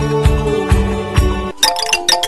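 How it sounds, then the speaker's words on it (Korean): A UBTECH Alpha Mini robot plays its incoming call ringtone, a run of bright chiming tones ringing out clearly after a few softer repeated notes, with no talking. "엄마로부터 온 전화예요."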